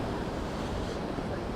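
Gusty wind buffets outdoors by the sea at Costa de la Calma in January, a dense rumbling roar with surf mixed in, steady and close throughout.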